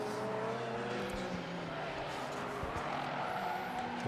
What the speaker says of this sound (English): Subaru Impreza, that's the black Subaru Impreza with the orange band along the side